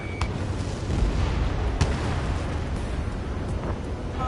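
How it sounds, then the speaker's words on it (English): Missile launches and explosions during an air combat sequence in Ace Combat 7: a dense, continuous roar with a few sharp bursts standing out, loud and alone, with no talk. "Missile away."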